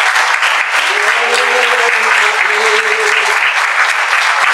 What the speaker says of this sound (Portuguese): então aplauda Jesus Cristo, o teu Senhor, o teu Salvador